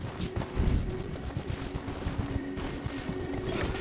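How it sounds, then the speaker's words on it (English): Enemy gunfire in the video game Elden Ring sounds as a dense, rapid rattle of shots and impacts. It is fairly loud and continuous across a few seconds, with no talking. "There is a guy shooting stuff up ahead"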